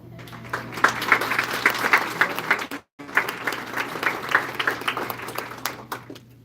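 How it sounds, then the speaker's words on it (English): Audience applause at a citizenship ceremony, a crowd clapping steadily with a short cut partway, then resuming at a similar level of dense, mid-distance clapping. "if you would please stand so we can give you a round of applause"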